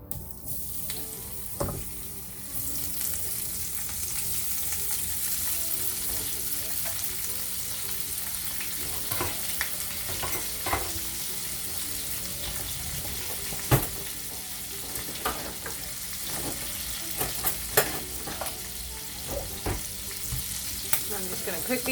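Shrimp frying in a pan with garlic salt, a steady broadband sizzle running throughout with occasional stirring clicks and small pops, close and moderately loud, with no talking.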